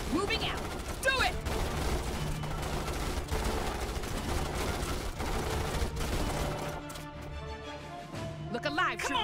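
Troopers fire on bugs in the real-time strategy game Starship Troopers: Terran Command, a dense, continuous rattle of rapid automatic gunfire with overlapping bursts, while voices shout over the shooting.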